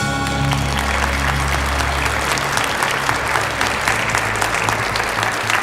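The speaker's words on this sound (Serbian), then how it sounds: "Ovo su aplauzi za iskrenost" A studio audience at a television quiz show claps in a steady, dense burst of applause that fills the room for several seconds with no talk over it.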